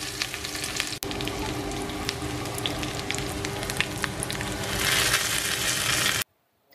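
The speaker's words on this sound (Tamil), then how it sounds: "ஸோ சட்னிக்கு இப்போ வந்துட்டு தாளிப்பு கொடுக்கணும்." Spices temper in hot oil for a South Indian chutney, a loud, dense, continuous sizzle and crackle up close with a few sharp pops, swelling louder near the end before cutting off abruptly.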